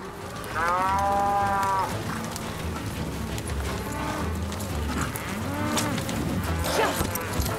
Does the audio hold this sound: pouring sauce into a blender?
no